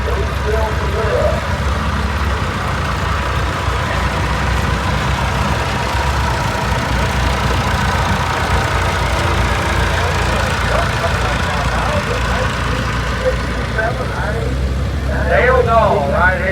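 A 1932 Allis T40 tractor idles in a parade at Boonville, Missouri, its steady low engine rumble running under an announcer's voice that talks over it throughout.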